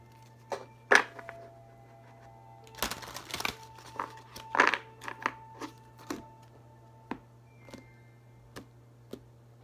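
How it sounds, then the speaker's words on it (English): Large tarot cards are shuffled in scattered bursts of riffling, crinkling card noise and sharp taps, close and quiet, separated by gaps over a low steady hum. "These are a little bit big to shuffle"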